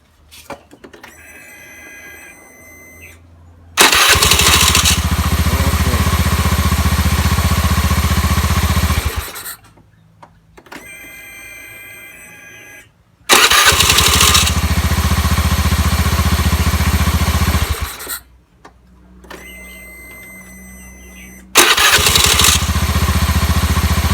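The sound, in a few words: Honda Scoopy i scooter engine starting after starter repair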